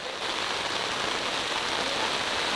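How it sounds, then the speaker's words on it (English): Heavy rain pours steadily outdoors in Thailand, a dense, even hiss of drops on surfaces that stays loud and unbroken throughout, with no voices. "The rain is here, heavy rain."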